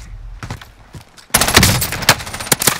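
Dense bursts of gunfire from Call of Duty: Modern Warfare, sparse shots at first, then a loud sustained fusillade of rapid automatic fire and sharp cracks, close and continuous with no talk.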